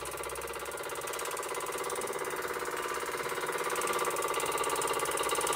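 An Albury Manor MK4 model steam engine running steadily, a rapid, even mechanical chuffing and clicking rhythm, close and fairly quiet, growing slightly louder toward the end with no talking.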